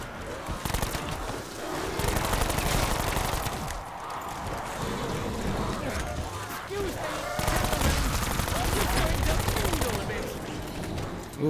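Rapid gunfire bursts from the IX pistol in Black Ops zombies, repeated volleys filling most of the stretch with dense, loud shots, with game effects and a voice mixed in.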